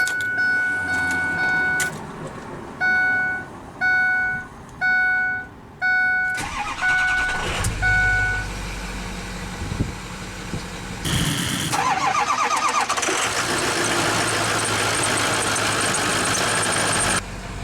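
A 2007 Ford F-350 Super Duty with the 6.0 litre Power Stroke diesel: several chimes sound first, then the starter cranks, the engine catches and settles into a loud, steady diesel idle with a rising whine.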